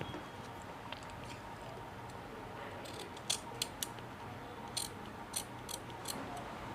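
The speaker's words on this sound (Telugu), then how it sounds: "ఇక్కడి నుంచి ఇలా జస్ట్ చిన్నది ట్రిమ్ చేసి దీన్ని స్ట్రైట్ చేయాలి" Scissors trim blouse fabric in a quiet room, making several crisp, separate snips close by during the second half, about six cuts with short gaps between them, over a faint background hiss.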